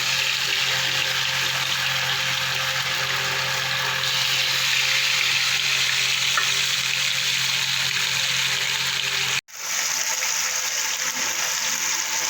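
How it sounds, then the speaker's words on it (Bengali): Fish sizzle steadily in hot oil while frying in batches for a fish curry with broccoli, a dense crackling hiss that drops out briefly near the end before resuming. "এবার আমি মাছগুলো ভেজে নেবো"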